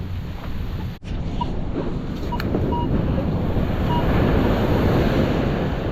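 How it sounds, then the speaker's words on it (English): Loud ocean waves surge and crash steadily onto the beach at a metal detecting spot, with heavy wind buffeting the microphone throughout and a brief dip in the noise near the start. "the waves make it really hard for me to hear my tones"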